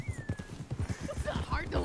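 A horse's hooves clip-clop in a steady rhythm in the western game WildRP, close and clear, while people chat over the hoofbeats.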